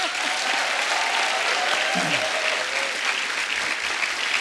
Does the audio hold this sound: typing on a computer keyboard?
no